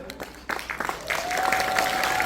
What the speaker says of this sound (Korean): 이미정 박수 한번 보내주세요